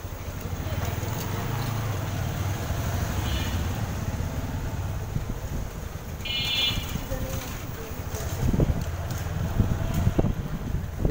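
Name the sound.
cold wind blowing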